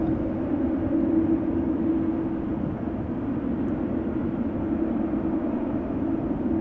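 A five-year-old Boeing 787 Dreamliner at Amsterdam Schiphol Airport gives a steady, loud broadband engine roar with a constant low hum throughout, no talk over it.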